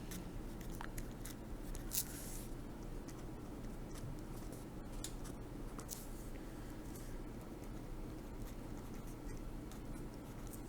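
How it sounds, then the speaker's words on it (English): A marker squeaks and scratches faintly across a surface while ordered pairs for a unit circle trig lesson are written out, a soft continuous scribble with small taps and no talking. "So I'm going to write those ordered pairs the same."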